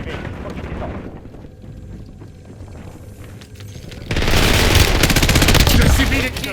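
Gunfire in a first-person shooter video game: muffled shots and game sounds, then a loud, dense burst of rapid automatic fire over the last two seconds, with in-game voices talking.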